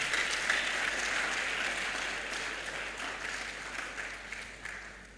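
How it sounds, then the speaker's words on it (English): Steady applause from a crowd, sustained clapping that fades slightly toward the end. "Can you give her a round of applause?"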